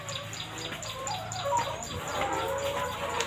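Chickens on a poultry farm, with repeated high chirps and clucks at a steady moderate level over a dense background of flock noise.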